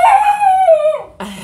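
A dog lets out a loud, drawn-out howl that slowly falls in pitch, then breaks off into a short bark-like yelp at the end.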